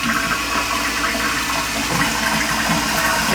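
An old toilet flushing and refilling, a loud, close, continuous rush of water that runs steadily throughout with no talking.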